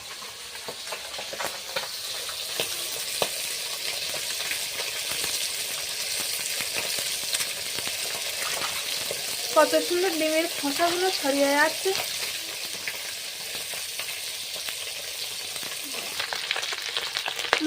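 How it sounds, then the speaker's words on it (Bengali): Fish fries in hot oil in a wok with a steady close sizzle and crackle, while someone talks briefly over it and a spatula scrapes now and then. "মাছগুলো ভাজা হচ্ছে আর আমি তাড়াতাড়ি করে ডিমগুলো ছাড়িয়ে নিচ্ছি"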